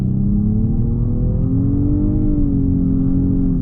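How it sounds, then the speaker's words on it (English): A 2019 Nissan Maxima SR accelerates hard in sport mode, its engine droning loudly and steadily with rising pitch and a slight dip mid-pull like a simulated upshift, heard from inside the cabin with no talking. "So it does simulate upshifts"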